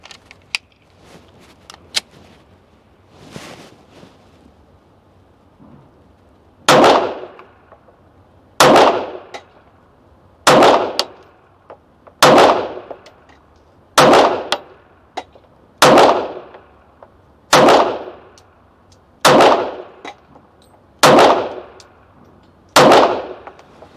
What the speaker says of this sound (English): I'm just going to enjoy shooting.